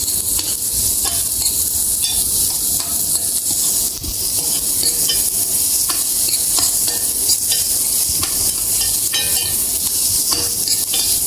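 Chicken pieces stir-frying with onions for Filipino adobo, a loud steady sizzle with repeated spatula scrapes and stirring clatter throughout, no talking.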